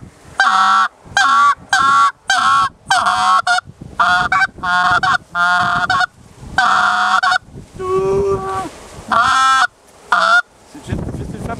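Repeated loud honking from a goose call imitating geese, sharp nasal blasts in an uneven rhythm with short pauses between them.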